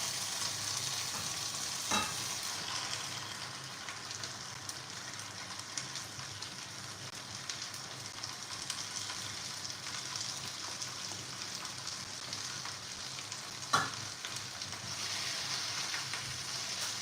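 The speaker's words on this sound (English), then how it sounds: "just want to saute the spinach" Spinach sautés in a pan with a steady, hissing sizzle. Two brief clicks of a utensil break in now and then, and nobody talks.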